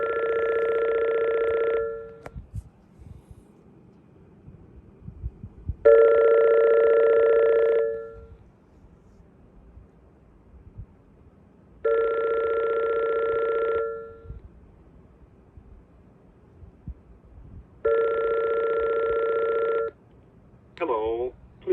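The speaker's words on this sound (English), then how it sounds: "Just listen to the ringing sound." Vintage AT&T landline phone ringing in four evenly spaced long bursts of a bright electronic warble, each about two seconds with pauses between, heard close and clear over a quiet room before a short voice at the end.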